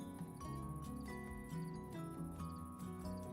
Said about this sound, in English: no freaking way is it making that annoying buzzing noise that whole time